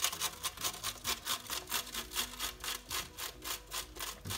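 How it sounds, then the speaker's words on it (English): Jarred black truffle is rubbed over a grater in quick, rhythmic scraping strokes, a soft close rasping repeated steadily with no talking. "I'm just going to grate this."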